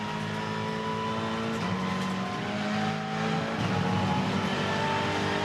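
A TCR touring car engine drones steadily from on board during a race, a loud sustained tone with slight pitch shifts as the driver works through the gears.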